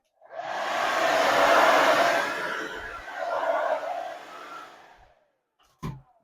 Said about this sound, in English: I also, again, hit it with the hairdryer.